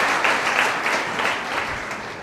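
An audience at a panel discussion on the Union Budget claps, a dense, steady round of applause with rhythmic pulses, fairly loud and gradually fading.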